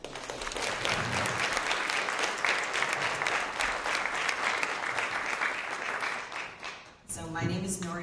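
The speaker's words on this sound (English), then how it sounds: "So big round of applause for Kathleen." Sustained audience applause fills a town candidates forum for about seven seconds, steady and fairly loud, then cuts away as a voice begins speaking near the end.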